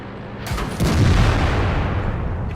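Loud tank cannon blasts from a T110E5 in a video game, a sharp shot followed by a heavy sustained boom and rumble that fills the short clip.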